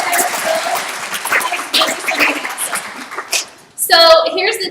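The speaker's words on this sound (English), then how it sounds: "can I just get another round of applause for these ladies" A training-session audience bursts into lively applause, a close, dense patter of clapping with a few laughs and voices mixed in, fading briefly before a louder final flourish of claps and a voice.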